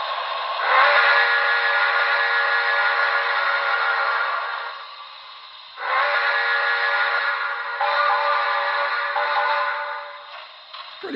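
A DCC sound-equipped HO-style model steam locomotive, a BLI New York Central Commodore Vanderbilt Hudson with a Paragon4 decoder, blows its chime whistle in three long blasts with short gaps, loud and close.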